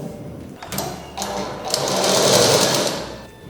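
A sewing machine stitches a fold of fabric during a beginner tailoring lesson, its motor whirring steadily and loudly, starting and stopping in short bursts before a longer continuous run.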